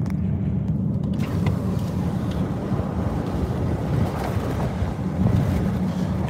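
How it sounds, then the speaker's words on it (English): Strong wind and rough Atlantic Ocean waves during Hurricane Lee, a continuous low roar with buffeting gusts, no talking. "the wind is still knocking the top of those waves off"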